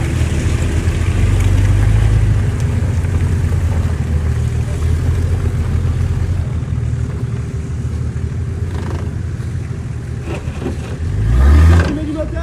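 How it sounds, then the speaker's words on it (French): An off-road 4x4 engine roars loudly at full throttle, a steady low rumble that surges into a sharp rising rev near the end, close to the microphone, with voices talking over it at times. "Tu mets du moteur à fond."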